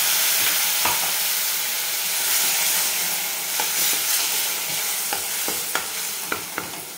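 Spice masala sizzling hard in a pan after water is poured in for a drumstick (shevga) rassa bhaji, a steady loud hiss with occasional pops and stirring scrapes.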